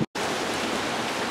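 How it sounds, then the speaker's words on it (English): Rain falls steadily during Hurricane Nicole as an even, dense outdoor hiss after a brief silent gap at the start, with no voices. "it has started raining"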